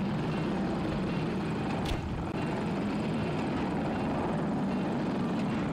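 An attack helicopter in the video game Battlefield 2042 roars steadily with loud, dense rotor and engine noise that fills the whole stretch without letting up.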